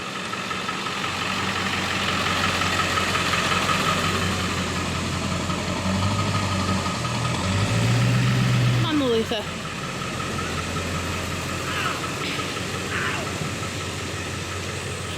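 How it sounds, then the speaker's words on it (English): A loud truck idles for the whole stretch with a constant low rumble and vibration. Voices talk over the engine noise near the middle. "So I'm in this loud ass fucking truck."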